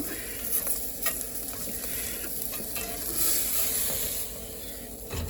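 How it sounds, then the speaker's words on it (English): Chicken and steak frying for quesadillas in a hot cast iron skillet, making a loud, continuous close sizzle and hiss with occasional stirring scrapes. "It cooks really fast in a cast iron skillet."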